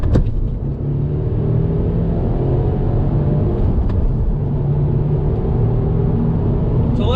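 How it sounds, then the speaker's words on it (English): A 2020 Subaru WRX pulls away in first gear on throttle to about 20 mph, a loud, close engine drone with a steady rumble throughout and a couple of sharp clicks, no talking. "little acceleration, first gear, about 20 miles an hour on throttle"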